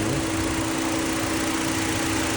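The 2000 cc dual VVT-i petrol engine of a Toyota Voxy 2019 with CVT transmission runs steadily, a constant close hum with an even, unbroken drone and no talk over it.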